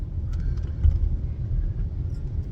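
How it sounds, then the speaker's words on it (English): A car passes close by while driving, a loud, steady low rumble of road and engine noise that swells slightly mid-pass, with no voices. "car just cut me off"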